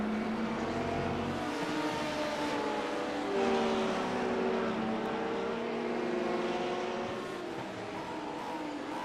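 Race cars from an Element Sim LMP team in a sim racing game at Barcelona roar past in a steady, continuous engine drone with slight swells as they pass, under a low background hum.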